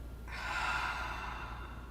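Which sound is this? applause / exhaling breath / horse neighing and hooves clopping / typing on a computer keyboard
exhaling breath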